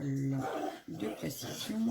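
Indoor dogs bark and yip in short bursts over someone speaking French close by, the barking mixing with her voice.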